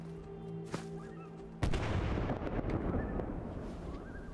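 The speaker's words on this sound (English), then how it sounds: "If I throw a grenade here just for fun." A grenade goes off in Fallout 4 with one sudden sharp blast, followed by a long rumbling, debris-filled decay over quiet game ambience and tones.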